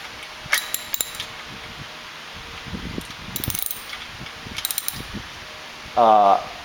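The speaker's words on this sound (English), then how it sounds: "Then use the box spanner to fasten firmly." A box spanner tightens a fastener on an ATS speed drive shifter during bicycle assembly, making scattered light metallic clicks and taps that end in a short, louder ratcheting burst.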